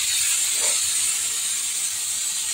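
A pressure cooker boiling potatoes gives off a loud, continuous high-pitched steam hiss that stays even throughout, with no talking.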